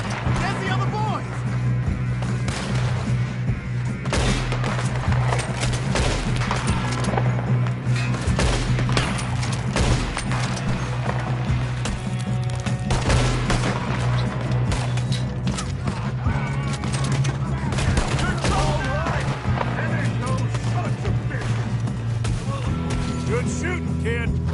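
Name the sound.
gunfire in video game Red Dead Redemption 2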